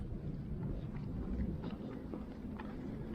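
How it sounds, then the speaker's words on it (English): Steady low wind roar buffets the microphone for the whole stretch, with no voices. "The wind is coming up again."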